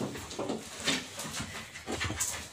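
A dog pants close by in quick, breathy puffs, with faint high whimpers mixed in.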